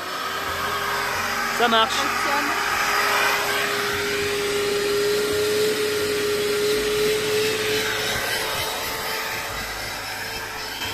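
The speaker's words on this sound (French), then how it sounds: "Mais elle nous alimente l'aspirateur." Running off an EcoFlow battery pack, a vacuum cleaner drones loudly and steadily throughout at close range, with a brief spoken remark partway through.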